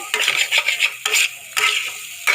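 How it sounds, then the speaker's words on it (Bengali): Bengali vegetable chorchori of bitter gourd, eggplant, pumpkin and potato sautéed in oil in a pan, with several sharp bursts of spatula stirring and scraping over a soft sizzle, close up. "দেখুন ভালো করে কষিয়ে নেবেন।"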